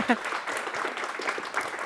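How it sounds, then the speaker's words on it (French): A small audience at a local event in Mulhouse claps briefly, a short patter of applause under a talking presenter's voice. "ça c'est des applaudissements qui viennent bien"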